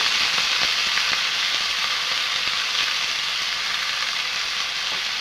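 Cabbage and potatoes fry in a pan, a steady, close hiss of sizzling oil holding evenly throughout, with faint stirring scrapes and no voices.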